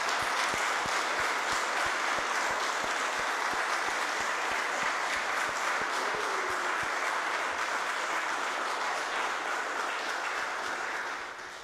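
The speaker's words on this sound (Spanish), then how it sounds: "Démosle un fuerte aplauso al Padre Jones." A church congregation at a Catholic Mass in the Verapaz diocese of Guatemala applauds Padre Jones, with dense, steady clapping filling the room for about eleven seconds before tapering off at the end.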